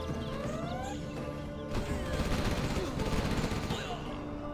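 Gatling cannons fire rapid, rattling bursts in the real-time strategy game Command & Conquer Generals Zero Hour, with crashes and impacts layered over a dense battle soundscape.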